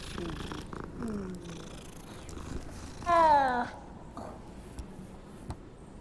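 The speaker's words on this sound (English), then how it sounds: "Let's pet the cat." A cat in the video game Hogwarts Legacy purrs softly as it is petted, then gives a loud, brief meow, with a player's voice talking over it.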